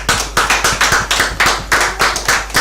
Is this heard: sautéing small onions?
no